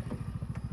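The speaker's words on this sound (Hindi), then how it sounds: "अभी बाइक पे जा रहा है" A motorcycle at a village wedding in Cholistan, Pakistan, gives a brief, quiet run of rapid, even engine putters, heard alone.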